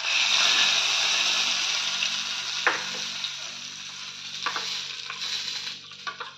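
Hot tempering of mustard seeds and chili hits chutney with a bright, loud crackling sizzle that gradually fades, broken by a few sharp pops and stirring clicks, with no talking.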